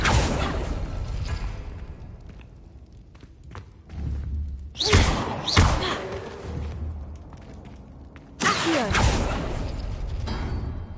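In the Hogwarts video game, the Accio summoning spell lands as sharp thumping whooshes and heavy impacts, several bursts set against quieter game ambience.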